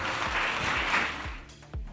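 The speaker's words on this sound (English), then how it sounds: "Let's give our panelists a big round of applause." A conference audience claps for a family-office panel, a brief burst of moderate applause with a few separate, distinct claps standing out before it tails off.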